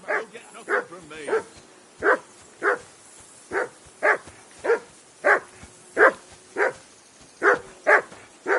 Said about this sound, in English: Say something to that dog.